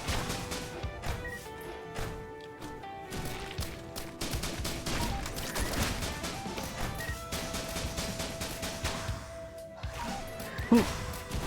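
Rapid bursts of video game gunfire from Risk of Rain Returns, a steady stream of quick sharp shots layered over music tones, with one louder hit near the end.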